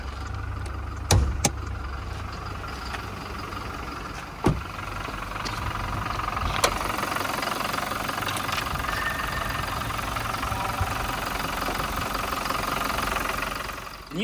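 A Toyota Hilux Conquest's 2.4-liter 2GD-FTV four-cylinder turbo diesel idles with the hood open, a steady close clattering rumble broken by a few sharp knocks early on.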